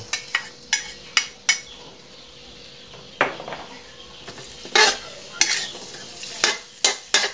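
Chilies stir-fry in a little oil in a pan over gentle heat, a soft sizzle punctuated by repeated sharp scrapes and clinks of a metal spatula against the pan, close and rhythmic.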